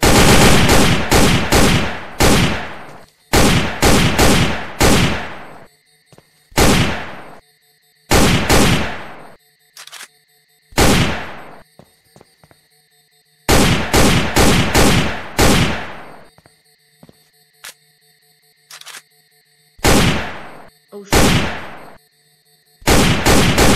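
Loud gunfire in the video game Sneak Thief, repeated rapid bursts of automatic shots separated by short pauses, close and dominant throughout.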